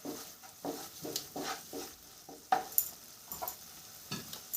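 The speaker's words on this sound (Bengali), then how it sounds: "দেখুন মশলা কষিয়ে নিয়েছি।" Spices being sautéed in a pan for a Bengali chhana (paneer) dish, with soft sizzling and repeated scraping stir strokes at a steady rhythm, close by and moderately quiet.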